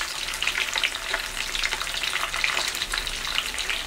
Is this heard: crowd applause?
no